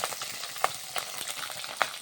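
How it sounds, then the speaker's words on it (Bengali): Eggs fry in a pan with a steady close sizzle and crackle, broken by a few sharp scrapes or taps of a utensil, and no voices. "প্রথমে ডিম ভাজা করি।"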